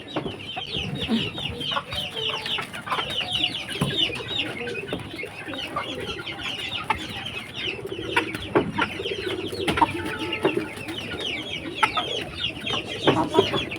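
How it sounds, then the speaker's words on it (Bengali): Chickens cluck and chirp steadily throughout, several birds close by with overlapping calls and rustling, no talking. "পরে মুরগিগুলাকে খেতে দিতে যাই"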